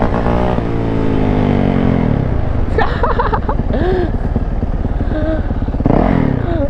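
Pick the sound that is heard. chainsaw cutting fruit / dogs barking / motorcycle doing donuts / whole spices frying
motorcycle doing donuts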